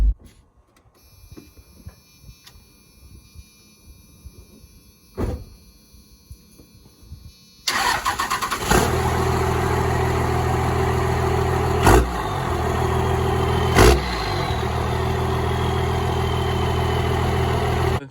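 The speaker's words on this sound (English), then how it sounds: "let's see how she cranks up." A 12-valve Cummins diesel in a pickup truck cranks briefly and catches, settling into a loud, steady, rattling idle close by after a quieter stretch with faint background noise; no one speaks.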